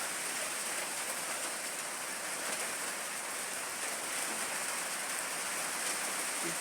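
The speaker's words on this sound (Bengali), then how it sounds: "বৃষ্টি আছে ভালো, কিন্তু বাতাস মাতাস না।" Steady rain falling outdoors with little wind, an even dense hiss of drops that holds unchanged at moderate loudness throughout, with no voices.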